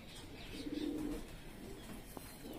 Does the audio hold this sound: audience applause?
no